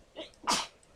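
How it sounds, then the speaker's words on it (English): A single sneeze, a short breathy intake and then a sharp explosive burst, close and fairly loud, with nothing else around it. "She's gonna sneeze."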